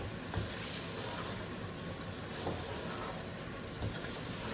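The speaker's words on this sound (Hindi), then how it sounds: "इसको 2 मिनट के लिए भूनूंगी।" Food sizzles steadily in a hot pan as it is fried, a continuous crackling hiss with occasional louder pops, close by and without talk.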